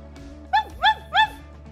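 A dog in the Roblox game Brookhaven lets out three short, bright barks in quick, even succession, close and clear over a faint background hum.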